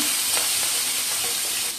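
Shrimp and dried chillies fry in hot oil with a loud, dense, continuous sizzle that holds steady throughout, close up with no talking.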